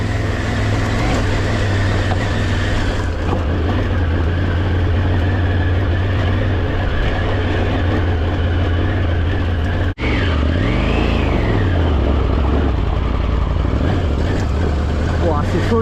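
A heavy motorcycle labours up a steep mountain track in Montenegro, its engine droning loud and steady with a rising, revving swell near the end and wheelspin sounds, while a rider talks over it.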